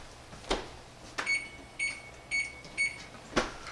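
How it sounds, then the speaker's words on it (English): A faint electronic beeper chirps four times in a quick, evenly spaced pattern, with a few soft clunks around it. "Let's set the timer."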